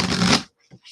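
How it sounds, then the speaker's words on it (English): A short riffle of a large tarot deck is shuffled up close, then two faint taps. "Shuffles pretty decently though for a really large deck"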